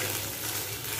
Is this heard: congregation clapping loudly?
no